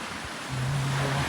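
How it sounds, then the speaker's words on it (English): Lake Superior waves washing against the shore at Split Rock Lighthouse State Park, heard as a steady broadband surf wash with a low hum joining partway through, no talking. "you can hear the waves"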